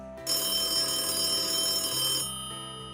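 An office telephone rings continuously in a rapid electronic bell trill that starts abruptly, holds steady for about two seconds, then cuts out, fairly close with no voices.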